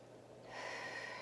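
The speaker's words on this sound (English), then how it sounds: "Nice deep breath here." A single deep, audible inhalation during standing yoga poses, close and soft, rising into a breathy rush over about a second.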